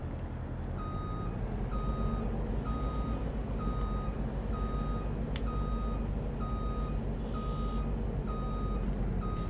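Truck reversing beeper in Farming Simulator 22, a steady evenly spaced series of electronic beeps over a continuous engine rumble and a high whine, with no talk.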